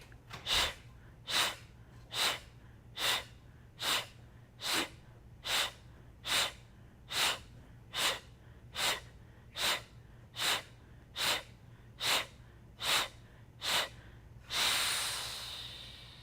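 Deep breathing through pursed lips during gentle yoga: about sixteen evenly spaced, forceful breathy puffs in a steady rhythm, close and clear, ending in one longer, noisier exhale.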